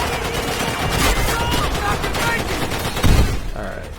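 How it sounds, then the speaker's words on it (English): Gunfire from World War II weapons in the shooter game World at War, fired from the hip, crackling steadily for about three seconds before a heavier burst near the end; rapid overlapping shots over a dense, continuous battle din. "Yes, I'm shooting from the hip."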